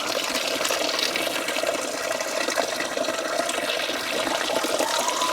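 Steady rushing water pours continuously from a pipe in Manali, Himachal Pradesh, a broad hissing gush that stays even and loud for the whole stretch with no voices.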